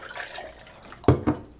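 About half a cup of water is poured over ice in a container while preparing a chlorine dioxide odor bomb for a vehicle: a soft trickle, then two sharp knocks close by.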